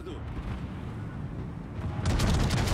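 Secondary guns of the Atlantico battleship firing in a naval combat game, a dense rumble of booming shots that swells louder near the end, with a voice talking over it.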